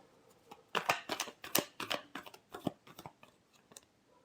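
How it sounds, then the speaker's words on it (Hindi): A deck of tarot cards being shuffled by hand, a rapid run of crisp riffling slaps and flicks up close, uneven in rhythm, with no talking over it. "Last shuffle."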